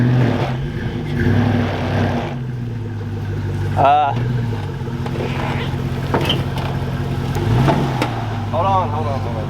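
A vehicle engine on an off-grid farm revs as it accelerates, its pitch rising and falling in several surges close by, with people talking over it.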